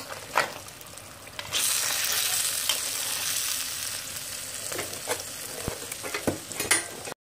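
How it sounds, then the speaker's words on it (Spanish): Pork meat browning in a pan with purslane sizzles and fries steadily, with occasional stirring scrapes and small pops, close and continuous with no talking. "aquí podemos ver, miren que la carne ya está comenzando a dorarse."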